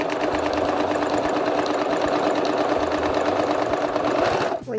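A sewing machine runs flat out with the pedal fully pressed, a loud, steady, rapid mechanical whirr of stitching that stays constant and stops sharply at the end.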